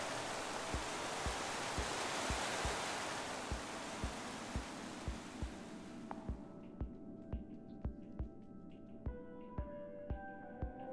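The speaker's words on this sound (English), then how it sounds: "I first met Ruben near a waterfall like this" A waterfall in the video game Minecraft Story Mode rushes as broad steady noise for about six seconds, then fades out, leaving regular soft footstep-like thumps and faint tonal pings.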